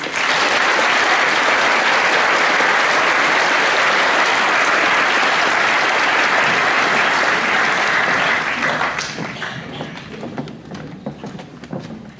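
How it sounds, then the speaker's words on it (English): A big audience at a Year 13 graduation ceremony claps loudly and continuously, the applause tapering off and scattering into a few last claps toward the end. "And final round of applause, please."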